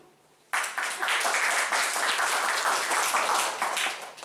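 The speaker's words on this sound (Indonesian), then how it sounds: "Tepuk tangan kan?" After a brief quiet moment, an audience at a group discussion in Bandung breaks into applause, a sudden burst of many hands clapping that continues steadily to the end.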